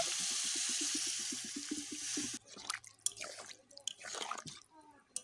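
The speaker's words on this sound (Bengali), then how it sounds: "এবার ঝোলের জন্য জল দিয়ে দেবো পরিমাণ মতো" Water poured into a pot of green jackfruit curry to make gravy: a close, steady splashing pour for a couple of seconds, then softer liquid stirring and bubbling sounds as it settles.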